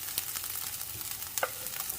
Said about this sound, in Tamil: அந்த பச்சை வாசனை போகிற வரைக்கும் நல்லா வதக்கி விடுங்க